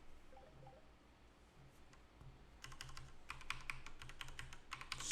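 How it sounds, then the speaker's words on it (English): Computer keyboard arrow keys are pressed during a SolidWorks model rotation on a PC with an Nvidia RTX 4000. Quiet, rapid key clicks come in clusters over the second half, with no talk over them. "So I'm going to use the arrow keys first."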